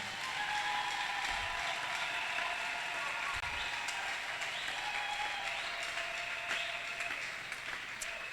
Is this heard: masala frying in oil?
no